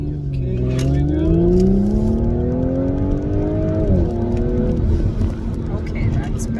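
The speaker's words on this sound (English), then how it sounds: "now we're gonna do a rolling launch to see how the shifting works out" A car makes a rolling launch, its engine note climbing loudly under hard acceleration, then dropping abruptly at a gear shift before pulling again. The recording is close, from inside the car, with speech from the occupants.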